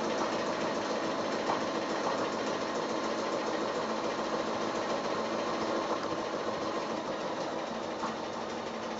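A sewing machine runs steadily while doing free-motion quilting, a continuous close mechanical whir and rapid needle chatter at an even speed throughout, fairly loud and with no voices.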